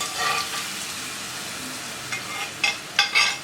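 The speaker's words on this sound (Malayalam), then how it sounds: "നമുക്ക് വേവിച്ച് വെച്ചിരിക്കുന്ന ബീഫ് അതിൻ്റെ ഗ്രേവിയോടുകൂടി തന്നെ ഇതിലേക്ക് ഒഴിച്ചു കൊടുക്കാം" Cooked beef in its gravy is poured into a hot pan for a Kerala beef pepper roast, giving a steady close sizzle with a few sharper bursts of spitting toward the end.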